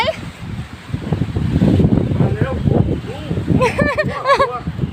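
Steady outdoor wind buffets the microphone throughout a walk with a dog, a broad rushing roar with gusty swells, while a voice talks over it and briefly lifts toward the end.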